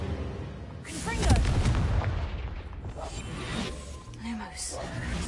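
A Confringo fire spell bursts in Hogwarts Legacy with a muffled boom and rumbling blast, partly buried under in-game character voices and a player talking.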